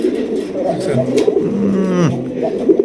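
A large sky-blue pigeon coos in low, rolling throaty calls at close range, with people talking over it.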